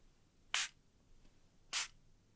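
Two brief, bright hissing bursts from a facial mist spray bottle, a bit over a second apart, crisp and close in an otherwise quiet room.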